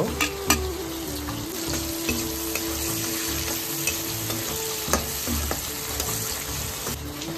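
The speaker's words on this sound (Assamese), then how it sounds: "এতিয়া একেখন কেৰাহীতে মিঠাতেল দি তাত গৰম হ'লে পিঁয়াজ আৰু শুকান জলকীয়া দি এইখিনি অলপ সময় ভাজিব" Onion and dried chillies fry in hot mustard oil in a wok, a steady dense sizzle running throughout with a few faint clinks of a utensil and no voices.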